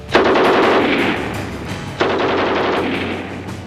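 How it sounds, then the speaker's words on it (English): An MG-34 machine gun fires two long, rapid bursts, the second starting partway through, each a loud, dense stream of shots close by that rolls on and then fades. "An MG-34 exceeded 800 rounds per minute"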